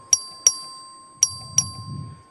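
A clerk's voting bell in the Texas House chamber sounds four clear metallic rings, two close together, a pause, then two more, each decaying slowly, with faint room murmur rising near the end.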